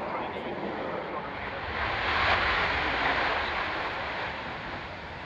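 A Tornado jet landing produces a broad, steady roar that swells slightly in the middle and then eases, with no distinct breaks.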